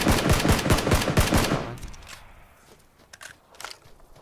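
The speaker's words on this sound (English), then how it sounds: "They're shooting at me." Rapid automatic gunfire in PUBG, a close, loud burst of evenly spaced shots for about a second and a half, followed by fainter distant shots against quieter game ambience.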